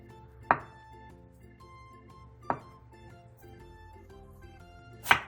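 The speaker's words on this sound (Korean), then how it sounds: "두부 한 무를 1cm 정도 두께로 두툼하게 잘라주세요" Knife cutting a block of tofu into thick slabs on a board, three separate sharp chops spaced about two seconds apart over faint kitchen background.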